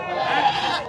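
A goat bleats at a busy goat market in Pebbair, Telangana, a single drawn-out wavering cry over a background of crowd chatter and nearby talk.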